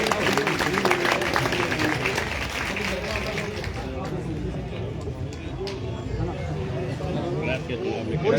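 A community crowd claps loudly and continuously to welcome a BJP minister being honoured with a turban at a rally in Kalayat, a steady wash of applause and crowd noise under someone talking.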